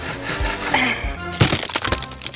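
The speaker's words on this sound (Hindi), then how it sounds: "शायद आरी से टूट जाए।" A saw working against wood in a cartoon scene, a few rough rasping strokes followed by loud cracking and splintering bursts, close and sharp.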